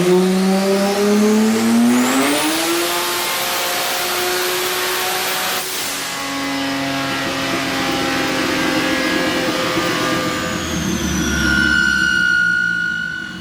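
A turbocharged Vortec 4200 inline-six running on a dyno at 39 psi of boost screams as it climbs through the revs, then drops and pulls again, a loud sustained high-pitched engine and turbo whine with shifting tones.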